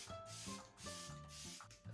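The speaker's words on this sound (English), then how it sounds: "Holding the bottle quite far away from my face and just spraying," Makeup setting spray misted from a bottle held at arm's length toward the face, several quick hissing spritzes in a row, soft and fairly close, with nobody speaking.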